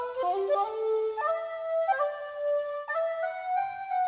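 A sampled shakuhachi-style flute tone on a keyboard rig plays a short melodic phrase from the very start of the sample, with breathy sustained notes and clear pitch steps, alone and fairly loud.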